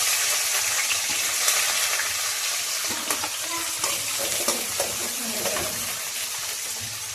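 Onions fry in a hot pan in a home kitchen, a continuous bright sizzle with scattered clicks and scrapes as they are stirred, steady and close throughout.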